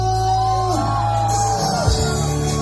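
A crowd at a live concert in Polomolok in 2024 shouts back on cue from the far end of the venue, a broad roar over a steady amplified music bed, with no clear words.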